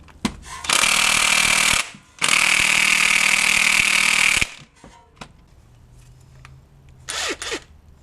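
Impact gun on the crank pulley bolt of a 2009 Honda Pilot, using a 19 socket, with two long loud buzzing bursts separated by a brief gap, then a quieter stretch of clinks and a short final whir.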